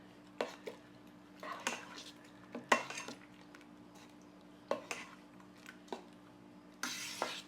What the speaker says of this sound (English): It was a 1/4 cup fresh chopped cilantro, so I doubled the batch, so it's a 1/2 cup cilantro. We'll go ahead and stir that in.